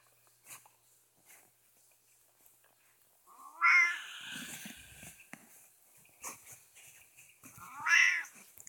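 A Minecraft cat meows twice, loud and near, in an otherwise quiet scene with faint scattered game noises between the calls.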